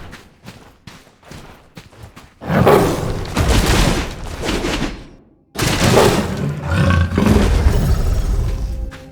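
A jaguar in the survival game Soulmask lets out two long, loud, rumbling roars back to back, preceded by softer rhythmic thumps.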